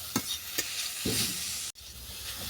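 Grated radish frying in a pan for mooli halwa, a steady bright sizzle with a few soft stirring knocks and a brief break near the end.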